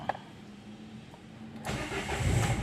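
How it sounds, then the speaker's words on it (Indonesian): A Renault Duster, just fitted with a new camshaft sensor, cranks briefly and catches, settling straight into a steady, rumbling idle, close by. "Kunci kita cabut, kita start ulang."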